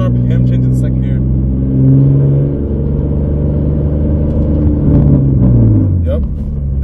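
A manual-transmission car accelerates with a learner at the wheel, its engine rumbling loudly from inside the cabin as pitch climbs, drops at a gear change and climbs again, while people talk over it.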